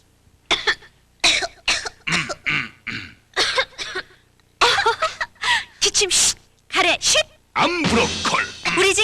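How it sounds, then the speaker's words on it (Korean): A series of harsh coughs in irregular bursts, some single and some in quick clusters, close and fairly loud with throat-clearing sounds between them. "기침"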